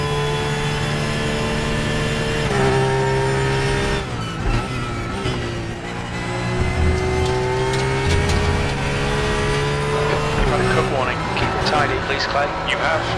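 Porsche race car engine in the Raceroom VR racing game, a loud sustained engine whine that rises and dips through gear changes, with a voice talking over it.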